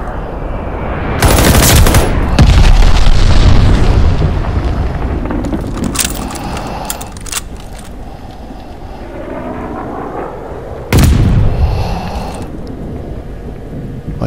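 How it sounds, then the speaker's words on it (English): Heavy explosions from an enemy glide bomb in a shooter game boom loudly, a big rumbling blast followed by crackling bursts and a second sharp impact later, alone without talk. "Got an enemy glide bomb on the way."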